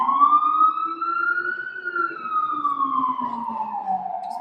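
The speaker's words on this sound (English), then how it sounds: "Just pausing for an ambulance." An ambulance siren wails steadily and loudly throughout, its rising-and-falling tone sweeping slowly as the vehicle passes close by, with no talking over it.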